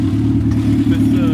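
Racecar hatchback engine idling too high, a steady loud droning hum throughout with a person talking over it.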